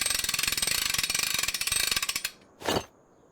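A ratchet tightening a part on an old machine in a video game, a fast even run of loud clicking strokes for over two seconds, then a single short metallic rasp after a brief pause.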